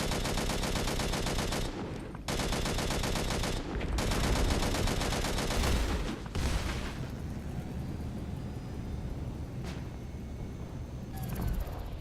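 Rapid, dense gunfire rattles out in long sustained bursts with brief pauses as a ship is shot at in the space combat game Angels Fall First, ending in sparse trailing booms.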